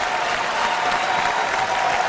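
A wrestling crowd in Newcastle applauds at a live WCPW No Regrets show, a dense continuous wash of clapping that stays even and loud throughout, with no distinct voices standing out.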